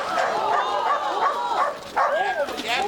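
An Australian herding dog of dingo and English stock yips and whines excitedly in quick, rising and falling cries, close and loud, with people talking over it.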